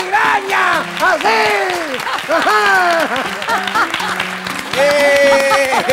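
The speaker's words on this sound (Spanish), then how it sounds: "¡Un aplauso para los técnicos, el maestrito y Piraña!" Applause from a crowd for the technical crew at a show, a steady wash of clapping under loud, tuneful cheering and shouting voices throughout.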